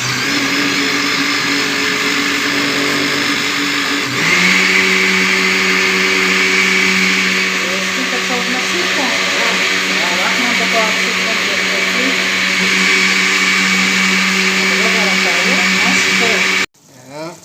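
An electric blender runs loud and steady grinding lemons with water for a summer juice, its whine continuous throughout with a slight pitch shift early on, under faint voices, then cutting off at the end.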